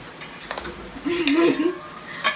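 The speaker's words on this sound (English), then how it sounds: "And then stir and stir." Shrimp pasta stirred in a pot, with scraping and clinking of a utensil against metal and a soft background hum, close and moderately loud.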